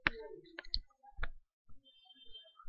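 Several sharp mouse clicks, close and dry, spaced irregularly while selecting a project's billing and settings page on Google Cloud Platform, with no talking.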